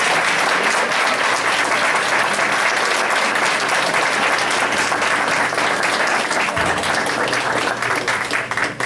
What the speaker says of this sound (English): So please, one more final round of applause for our 11 poet laureates.